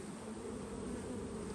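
Honey bees swarm over a hive frame in a package colony, producing a dense, continuous close-up buzzing hum with no other sounds.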